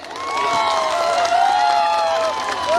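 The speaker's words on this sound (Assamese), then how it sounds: "এটি সুন্দৰ হাত চাপৰি হ'ব লাগে" Audience applauding and cheering for a popular singer at a Bhogali Bihu celebration event, a steady crowd wash of clapping and shouts with tonal music or whistles riding over it, fairly loud throughout.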